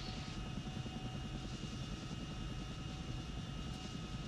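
Steady drone of a Chinook twin-rotor helicopter's engines in a flight simulation game, a constant muffled hum heard from inside the aircraft with no talk.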